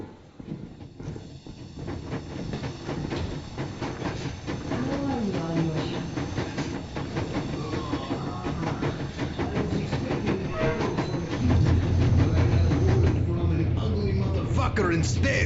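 A steam train rumbles along in the video game Metro Exodus with a steady mechanical roar and faint clatter, growing louder and heavier toward the end, with some voices mixed in.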